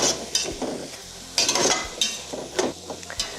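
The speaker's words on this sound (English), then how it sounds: "We're going to saute these vegetables until the onions are soft." Chopped celery and onions sauté in a hot pan, a bright close sizzle broken by repeated scraping strokes of a spoon as the vegetables are stirred, the strokes coming in quick, uneven bursts.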